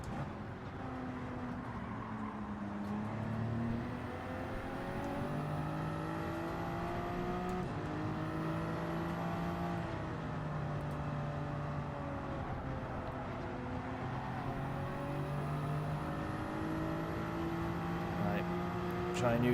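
Toyota Supra race car engine in the racing game Gran Turismo 7, a steady loud engine drone with shifting pitch as it pulls down a straight, continuous throughout with a voice talking over it.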